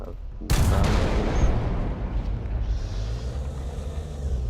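A cannon fires in War Thunder, one sharp loud blast followed by a long rumbling decay with low engine drone underneath.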